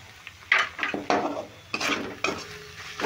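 Chopped carrots sautéing with spices in a pan, several scraping stirs from a spoon against the pan over a low sizzle, close and uneven in rhythm, with no talking.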